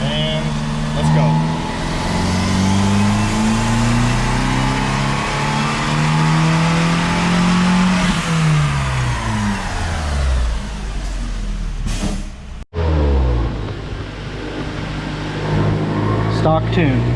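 A Fiat 500 Abarth's 1.4 turbo MultiAir engine revs hard on a dyno, its pitch climbing steadily through the gears, then cuts off sharply before idling and revving again. The engine is loud and close, with a faint voice briefly under it.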